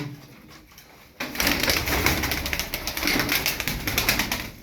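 Tumbler pigeons coo in a loft, a soft, murmuring rumble that begins after a quiet second and carries on continuously, with possible wing flutters mixed in.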